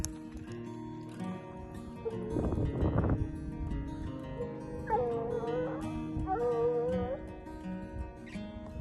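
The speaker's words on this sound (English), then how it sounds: "the dogs are trailing up through here" Hunting dogs trailing through hills near an old mining ghost town, giving drawn-out wavering howls and yips at moderate distance, with rustling and movement sounds nearby.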